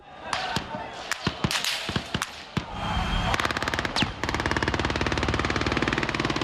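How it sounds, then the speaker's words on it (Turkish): Sharp sniper rifle gunshots crack repeatedly from afar, first scattered single shots, then a dense rapid burst of automatic fire, loud against a noisy background. "Uzaktan atılan ve nereden geldiği belli olmayan sniper mermileri."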